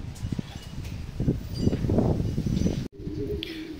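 Low racing pigeon coos murmur close by in a loft, mixed with rustling and soft bird sounds, then cut off briefly before resuming more quietly.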